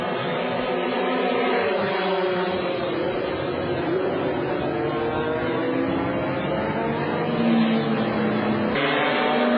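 FIA GT race cars, including a red Chrysler Viper and a Ferrari, roar around the Valencia circuit during qualifying, a continuous engine drone that rises and falls beneath a commentator's voice.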